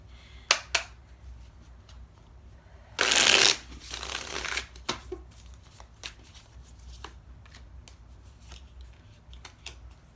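Naked Heart tarot cards are shuffled in one loud burst of riffling, followed by scattered soft card taps and handling clicks in a quiet room.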